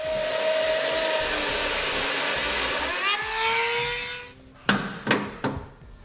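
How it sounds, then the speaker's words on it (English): An electric die grinder cuts metal beneath a truck bed during an underbed gooseneck trailer hitch install on a 2018 Chevrolet, its high whine running steadily and rising in pitch before dying away into a few sharp metallic knocks. "if you have a cutter, an electric die grinder, that'll work as well"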